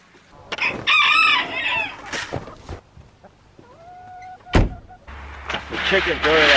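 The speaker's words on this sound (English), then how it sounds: "Chickens are really like hanging out on the grass." Chickens cluck and a rooster crows outdoors on a farm with goats, the calls loud and close amid brief talk and a passing car-like whine.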